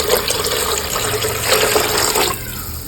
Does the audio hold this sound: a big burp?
no